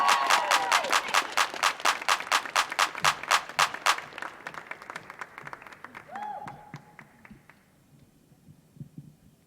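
An audience at a youth poetry festival on a stage applauds for the next poet, with dense, rhythmic clapping that is loud at first and then thins out and fades. A voice speaks briefly near the end.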